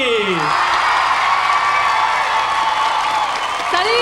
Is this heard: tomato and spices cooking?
no